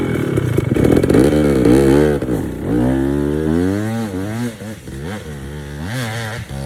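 Two-stroke 2021 KTM 300XCW dirt bike engine starting up nearby, then revving loudly through rising and falling blips of throttle before dropping back toward idle, with no one speaking.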